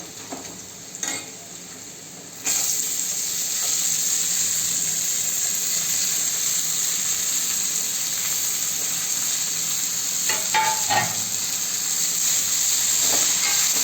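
Chopped cabbage seasoned with turmeric sizzles steadily in a hot pan as it is stir-fried, a quiet start giving way at once to a loud continuous frying hiss with faint stirring scrapes, no voices.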